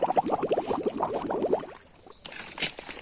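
Spring water gushes up from the ground near Vasundhara Waterfall, a close, steady run of bubbling, gurgling pulses that fade briefly in the middle before the flow swells again.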